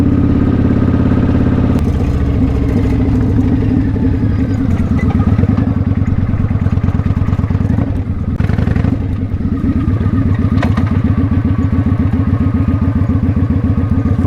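A motorcycle being ridden on a short Thanksgiving trip, its engine droning steadily and loudly up close with wind rush and a few clattering knocks, no talk.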